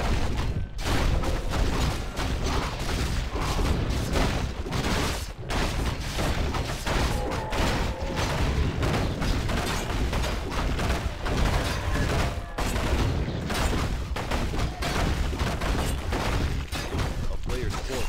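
Dense, nonstop clash of Warcraft III combat between two Undead armies on patch 1.35: loud layered hits, booms and rapid gunfire-like bursts roll on for the whole stretch with no let-up.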